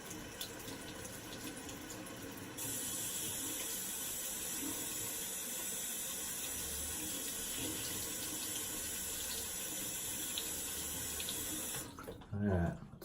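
A bathroom tap runs steadily, splashing water into a sink to rinse a razor blade during a wet shave; the flow is continuous and fairly close, stopping abruptly near the end.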